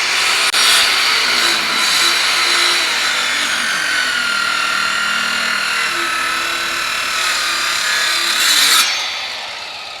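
Steady rasping strokes of a hand saw cutting through wood, continuous and close, with faint voices in the background.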